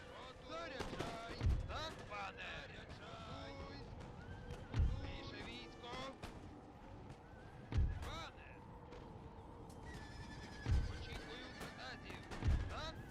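Cavalry horses neigh and whinny in a strategy game battle, with sharp gunfire thumps recurring every few seconds over a dense clatter of combat while a voice talks over it.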